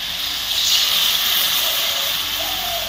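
Steam hisses loudly and steadily as water is poured into a hot pan of spice-fried ridge gourd, a broad, airy rush that holds for about three seconds with no talk over it.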